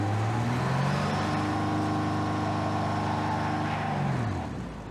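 Truck driven in the Cyberpunk video game, a loud, steady engine drone with rising and falling pitch that eases off at the end, with no talk.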